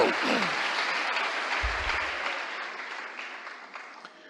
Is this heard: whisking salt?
no